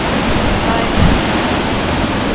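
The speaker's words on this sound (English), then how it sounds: "here we are at the Newlands Waterfall." Newlands Waterfall gives off a loud, constant broadband rush of falling water, steady throughout the short stretch.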